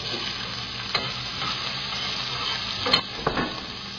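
Cumin seeds, fenugreek seeds and onion fry in hot oil in a pan, giving a steady close sizzle with a few light stirring scrapes and soft clinks.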